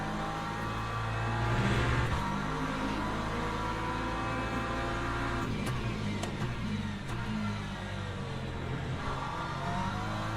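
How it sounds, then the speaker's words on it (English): Hypercars race past in Le Mans Ultimate over a steady engine drone, with a brief rise in engine noise and a few sharp passing whooshes, and no speech heard. "Alright, here come the hypercars."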